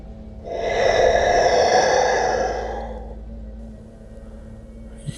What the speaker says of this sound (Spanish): volví a escuchar esa respiración.